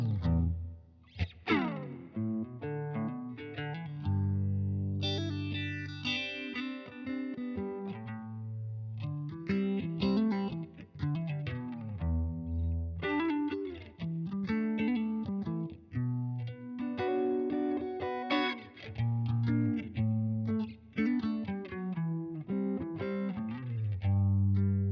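Stratocaster electric guitar played through two phaser effects, producing a subtle, swirling psychedelic tone with sustained chords and melodic lines throughout, loud and alone without voices.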